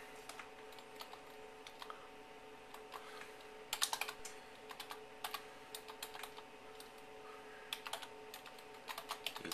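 Keys clack on a computer keyboard as a search is typed, scattered bursts of quick taps, faint and close, with brief pauses between words.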